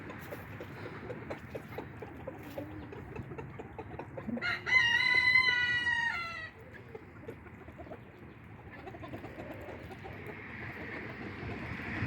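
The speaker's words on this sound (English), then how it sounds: "Chickens are so happy to be outside." A rooster crows once, loud and drawn out, over steady soft clucking from chickens outdoors.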